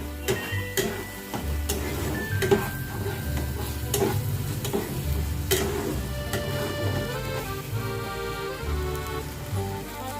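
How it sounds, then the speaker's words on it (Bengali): A paste of cashew, poppy seed and melon seed being sautéed in a pan for a katla fish rezala, with a steady sizzle and repeated scraping stirs in an uneven rhythm, close and fairly soft. "এবারে এর মধ্যে দিয়ে দেব কাজু বাদাম, পোস্ত আর চালমগজের পেস্ট, দিয়ে এটাকেও আমি কষিয়ে নেব।"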